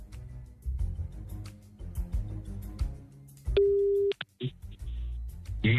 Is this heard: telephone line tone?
yes